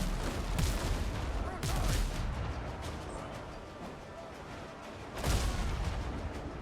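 Ship cannons in the naval battle game WindRose fire at an enemy hull in a few booming volleys over a continuous rumbling battle din.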